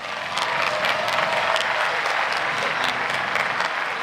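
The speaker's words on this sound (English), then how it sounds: "Please give yourselves a round of applause" Graduates at a high school commencement ceremony give themselves a round of applause, a sustained, dense crowd clapping heard at full strength throughout, with no talking over it.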